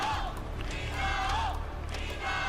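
A crowd at a fighting game tournament cheers and roars as a steady, dense background under an excited commentator's voice.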